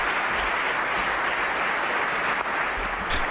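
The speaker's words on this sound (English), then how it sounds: "Give him a big clap." A crowd at an awards show claps steadily and fairly loudly for a few seconds, one continuous wash of applause.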